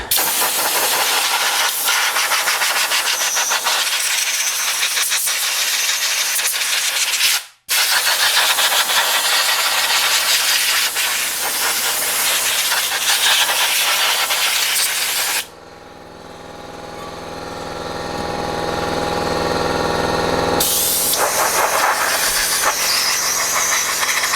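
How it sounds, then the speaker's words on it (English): A compressed-air hose blows the brake parts of a 2007 EZGO TXT gas golf cart dry, a loud, close, steady rushing hiss in long bursts with one brief cutoff and a later change in tone. "Get the air hose, blow dry it."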